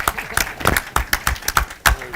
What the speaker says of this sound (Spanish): Pues otro aplauso para el autor